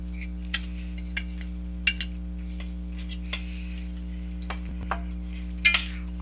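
Mawa being stirred into thickened sugar syrup in a pan for khopra pak: a spoon scrapes and clinks against the metal several times at irregular intervals over a steady low hum, with no talking.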